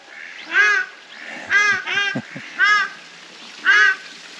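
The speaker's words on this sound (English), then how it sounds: "And the ducks are welcoming us." Ducks at a pond beside a walkway in Nova Friburgo, Rio de Janeiro, giving about five loud, nasal, honking quacks in short bursts with brief pauses between them.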